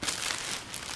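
A plastic bag from takeout dinner crinkles up close for about a second, a steady, loud rustle with no talking.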